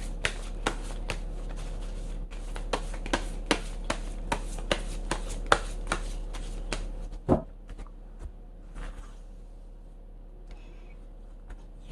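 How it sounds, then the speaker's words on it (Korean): Tarot cards are shuffled and one extra card is drawn from the deck, giving rapid crisp flicking snaps close up in a steady run for several seconds, then a sharper slap and a quiet, sparse tail. "5번 분만 특별히 제가 한 장 더 뽑아보도록 할게요"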